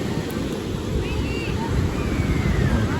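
Surf rolling onto Playa Blanca beach in Peru, a steady close wash of waves with wind buffeting the microphone, continuous and fairly loud.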